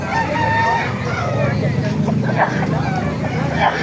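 Roosters at a live chicken market in Baliuag, Bulacan, with brief crowing calls rising out of steady crowd babble and someone talking up close.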